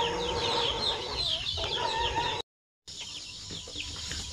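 Native Basilan chicks cluck and peep in a busy, close chorus, their chirps continuous apart from a brief gap, with no talking.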